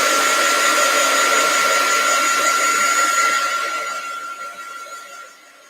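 A hair dryer blowing on a piece of artwork gives a steady, close whirring roar with a high whine, running evenly and then fading as it is switched off.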